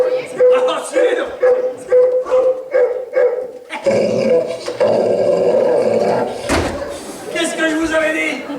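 A large dog growls and barks close by in a loud, continuous rumble, while voices speak over it and a door-like thud cuts in near the end.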